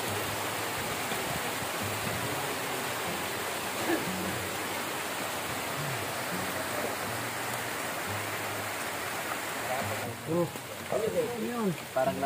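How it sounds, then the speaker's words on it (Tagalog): Heavy, steady rain pours down on a farm in a dense hiss, with faint voices murmuring underneath and louder talk near the end. "Ang lakas ng ulan."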